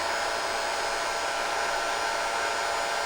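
A small cordless baby hair and body dryer whirs continuously at close range, a steady, even high-pitched blowing hum with no pauses or voices.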